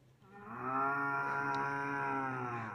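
A voice imitating a cow, producing one long, drawn-out, harmonic moo that swells in and holds steady before fading, close and clear with no other sounds.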